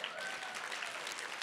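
Audience applause at a body language boot camp, steady dense clapping that holds throughout, moderately distant and even, with a few faint voices underneath.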